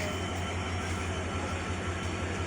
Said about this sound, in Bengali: সামনে শাটল ট্রেন রয়েছে